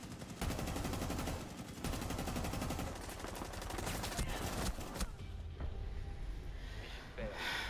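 Gunfire in Rainbow Six Siege during a ranked match: rapid bursts of shots in quick rhythmic strings, loud and close, broken by short gaps and ending in a softer tail of scattered sounds.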